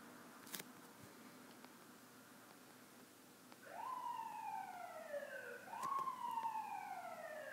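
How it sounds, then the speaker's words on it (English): A police siren sounds faintly from outside, two rising-and-falling wails that swell in from a distance over low room hum. "I wonder if the police siren is going to show up on the video."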